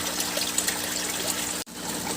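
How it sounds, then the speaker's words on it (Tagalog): Water pours steadily into a fish breeding tank, a continuous close trickling splash that breaks off abruptly for an instant near the end and then resumes. "Guys, eto, naglalagay na tayo ng tubig."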